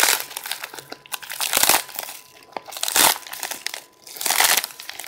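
Paper wrapping on a Christmas present package crinkles and tears in several loud bursts, close by and without talk, with short pauses between rips.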